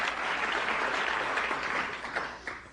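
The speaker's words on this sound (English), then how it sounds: "You're supposed to applaud, you know." Dense audience applause rolls through a lecture hall at an economics talk, a steady wash of many hands clapping with no voices over it, easing slightly toward the end.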